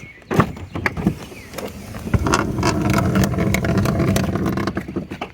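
A faulty center roller makes a 2017–2026 Chrysler Pacifica sliding door rumble and rattle along its track, with sharp knocks and clunks over a grinding roller noise.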